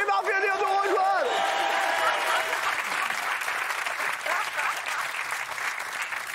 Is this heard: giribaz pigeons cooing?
no